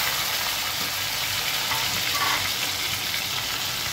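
Chicken pieces, already mostly boiled, fry in hot oil over high heat for a home-style KFC-type fried chicken, giving a steady, close, even hiss of sizzling with no talk.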